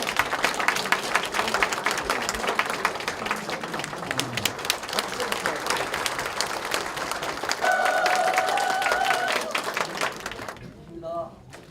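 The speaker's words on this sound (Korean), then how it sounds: "박수 한번 쳐주시기 바랍니다" Dense crowd applause at a party disability committee launch ceremony, loud and sustained for about ten seconds with cheering mixed in, then cutting off abruptly into quiet.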